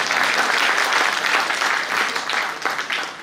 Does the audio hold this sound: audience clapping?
yes